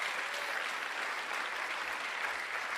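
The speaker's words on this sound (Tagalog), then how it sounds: "Lakasan nyo yung palakpak nyo" A church congregation claps loudly during a Tagalog sermon, producing a steady, dense wash of applause throughout with no speech over it.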